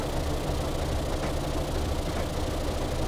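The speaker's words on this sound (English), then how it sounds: "unfortunately the engines are struggling a little bit" Straining engines in the Stormworks video game under gearbox load, a continuous low rumbling drone held at an even level throughout, with no talk over it.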